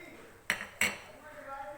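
Ingredients for chicken fried rice are mixed in a pan, two sharp metallic clinks of utensil on cookware standing out over faint background noise.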